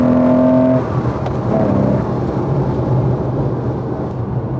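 A Porsche 911 engine droning and accelerating up close, a steady rumbling roar that shifts pitch early on and continues alone.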